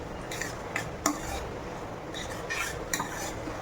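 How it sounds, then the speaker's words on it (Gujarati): A utensil stirs grated bottle gourd in melted ghee in a pan, giving soft scraping strokes and occasional sharp clinks against the metal, close and fairly quiet. "આપણે દૂધીના ખમણને થોડી વાર હલાવીએ."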